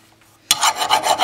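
A metal file rasps across a walnut handle on a handmade Bowie knife, starting abruptly after a brief silence, then continuing in quick, close, rhythmic scraping strokes.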